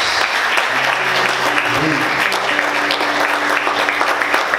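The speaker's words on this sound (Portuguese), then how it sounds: "Você pode aplaudir Jesus bem forte?" Congregation in a church service clapping loudly together, a continuous dense roar of applause that holds steady throughout, with a low tonal murmur underneath.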